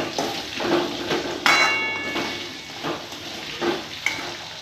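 Potatoes fry in a pan with salt and food colouring, a steady sizzle broken by a few close scraping stirs and a brief metallic clink near the middle.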